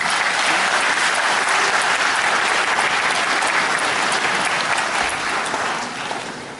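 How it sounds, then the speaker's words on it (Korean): An audience at a civic safety-city proclamation ceremony in Gumi breaks into loud, sustained applause, a dense roar of clapping from many hands that holds steady before tapering off at the end. "우리 요코 시라이시 이분께 우리 박수 한번 보내주시고"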